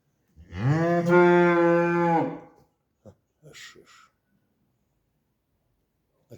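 A single long, loud cow moo close by, deep and drawn out, followed by a few faint brief rustles and then quiet.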